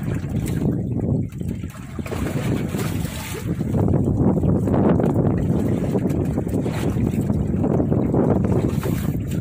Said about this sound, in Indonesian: angin barat laut sekarang